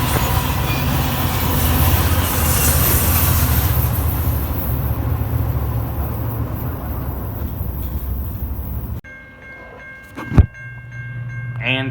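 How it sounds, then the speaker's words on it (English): An Amtrak passenger train rolls past southbound with a loud, continuous rumble and wheel noise close by. The sound then drops away abruptly and gives way to quieter background with a sharp knock. "Here's the exact same Amtrak we saw going northbound before, the first time going southbound."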